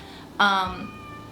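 Pet cat giving a single clear meow, loud and close, rising sharply then trailing off over about a second in a quiet room.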